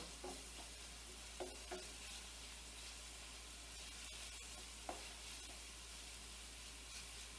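Onions frying over medium to high heat in a pan on a stovetop, a soft steady sizzle with a few light stirring scrapes and clicks, quiet and close with no talking.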